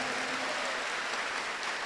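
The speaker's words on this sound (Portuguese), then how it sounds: "Vamos dar uma salva de palmas para Jesus." A church congregation claps together in steady broadband applause through the whole stretch, with no talk over it.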